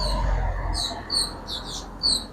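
Small birds chirp outside an open window in a home in Korea, with a few brief high tweets and calls spaced out over steady low room noise, moderately faint and with no talking.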